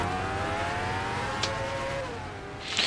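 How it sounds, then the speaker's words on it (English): A Formula Micro race car engine on Toledo Speedway whines at high revs, pitch drifting gradually, with a brief sharp burst midway and another noisy swell at the end. "You'll notice Aris has a more traditional sounding motorcycle engine going on."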